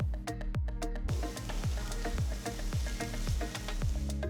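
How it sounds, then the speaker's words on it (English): A sautéed onion, ginger and chili mixture sizzles steadily in a pan while salt and asafoetida are stirred in, with repeated rhythmic scraping strokes over the constant frying hiss, close and clear. "I'm adding about quarter teaspoon of salt, quarter teaspoon asafoetida powder and mix everything."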